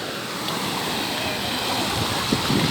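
Broadband wash of sea at Manavgat, Antalya, Turkey, a steady surf and water hiss filling the whole clip at moderate level, with no clear voices over it.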